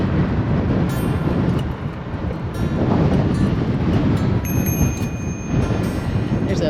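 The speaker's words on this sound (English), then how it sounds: "it is an insanely windy day right now" Strong wind buffets the microphone in a steady, heavy roar, with gusts rising and falling throughout.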